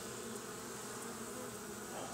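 A continuous honeybee buzz hums steadily from a hive box, a soft droning of many wings close by, with no voices.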